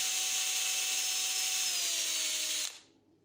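A cordless drill whines steadily at high speed while boring a hole for a homemade medieval sewing needle, its pitch sagging slightly before it cuts off abruptly into near silence; no voices.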